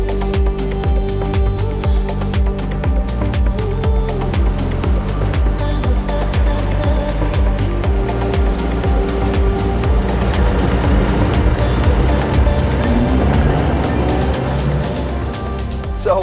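Car cruising on a motorway, a steady loud road and engine roar with tyre noise, continuous and close for the whole stretch, no talk.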